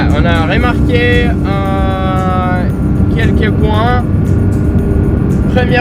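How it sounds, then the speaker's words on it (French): Inside a Porsche GT3 cabin, a loud engine drone and rumble continues steadily while someone talks over it, with rising and falling engine tones between his words. "Même si on roule assez tranquille, il y a beaucoup de bruit. C'est même pas un bruit d'échappement, c'est un bruit de moteur."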